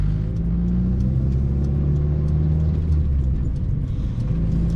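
A Mazda MX-5 NC with a modified exhaust idling and revving, a loud, close, deep droning rumble whose pitch shifts as the revs rise and fall, with no talking.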